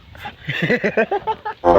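A pig grunts in a quick series of short, loud oinks close by, rhythmic bursts ending in a harsher, louder squeal-like grunt; no talking is heard.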